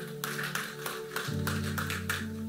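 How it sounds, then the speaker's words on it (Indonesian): Church congregation clapping, rhythmic hand claps at a regular beat over sustained keyboard tones, moderately faint and without speech. "tepuk tangan dulu Bapak Ibu"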